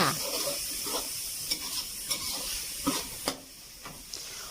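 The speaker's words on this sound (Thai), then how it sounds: "แล้วเราก็คลุกเคล้าให้เข้ากับเนื้อหมูนะคะ ผัดไปเรื่อยๆค่ะ" Pork stir-fried with red curry paste in a pan, a steady hiss of sizzling oil broken by periodic scraping knocks of the spatula, close and fairly loud, with no talking.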